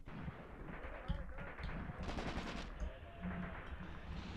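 Gunfire from units in the tactical war game Graviteam Tactics rattles in scattered bursts, fairly distant and steady, with no voices over the battle.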